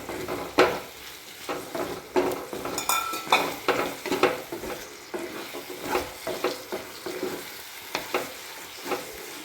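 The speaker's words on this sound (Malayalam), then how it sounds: "നന്നായിട്ട് ഇളക്കി മിക്സ് ചെയ്യും." Mushroom curry being stirred in a pan, a steady sizzle under repeated scraping and clinking of a utensil against the metal, close and moderately loud with no talking.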